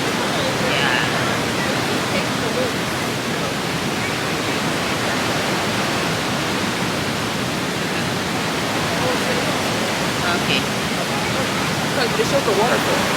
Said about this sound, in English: This is the Niagara Falls.